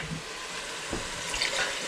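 Water poured into a pot of homemade chili makes a steady, fairly loud rush of liquid that runs for the whole stretch, with a few small clinks near the start and middle.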